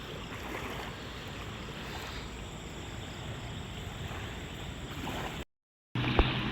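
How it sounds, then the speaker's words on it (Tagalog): A motorboat crosses a river toward the crossing point, its steady engine drone broad and continuous amid water and wind noise, with a short dropout near the end. "So, ayun na po yung bangka."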